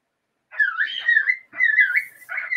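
A person whistles a short melodic tune to their pets, two clear wavering phrases followed by the start of a third, close and alone against silence.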